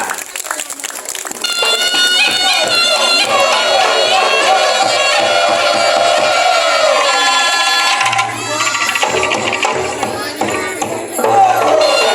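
An audience claps loudly and steadily for a fourth-grade boys' group performance at an elementary school arts show, with the applause running throughout under music and an announcer's voice.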